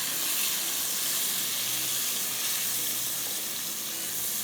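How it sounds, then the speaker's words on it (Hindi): Masala-coated chicken with a little water fries lightly in a pan, giving a loud, steady hiss and sizzle that stays constant throughout, with no voices. "बस बहुत ज़्यादा इसको ब्राउन नहीं कीजिएगा, हल्का सा इसको फ्राई करते हैं।"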